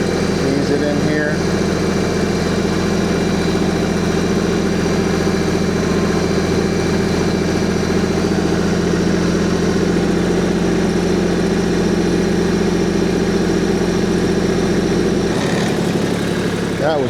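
A tractor engine runs steadily at a low, constant drone while the wheels are turned on gravel, close and continuous with a brief change near the end, and a person talks over it.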